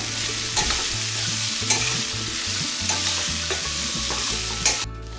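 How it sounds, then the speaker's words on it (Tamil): Raw banana poriyal stirred with pepper powder in a pan, with a spoon scraping in steady strokes, a few sharper knocks, and a soft sizzle underneath, close and fairly loud throughout. "இப்போ மிளகுத்தூள் சேர்த்து நல்லா கிளறி விட்டாச்சு"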